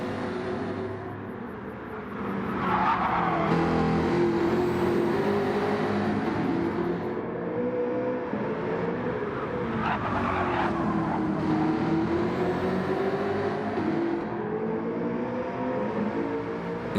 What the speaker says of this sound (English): Drifting the car into the corner to get the faster rotation and boot it out as quickly as possible